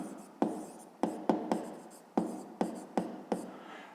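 A pen scratches across paper in a string of short strokes, about nine distinct taps and scrapes, close and fairly quiet against a hushed room.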